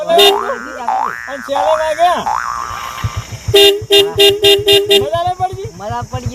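Several short, loud motorbike horn toots sound in quick succession, mixed with playful voices and a high, bouncy tone.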